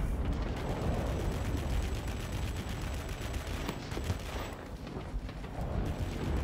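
An aircraft gun firing in World of Warplanes during a dogfight: a steady, loud stream of rapid fire over a roaring engine drone, with no voices.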